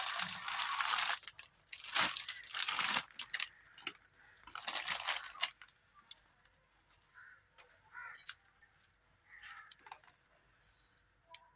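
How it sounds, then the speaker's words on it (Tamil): Plastic basket wire is cut by hand in several bursts of crisp snipping and crinkling, close and fairly quiet, with rustling handling sounds between the cuts and no talking. "இப்போது ஒயர் கட் பண்ணுறது பார்க்கலாம்."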